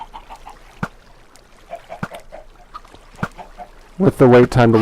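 Chickens cluck in a video game chicken farm, short scattered clucks and taps that end in a louder cluster of squawks, with a person talking over the sounds.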